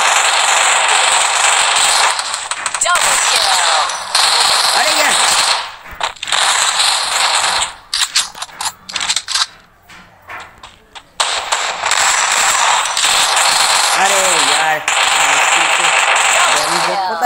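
Automatic weapon fire in the Free Fire battle game, long dense bursts of rapid shots broken by a short lull of scattered clicks and effects, then heavy firing resumes, with a voice speaking under it.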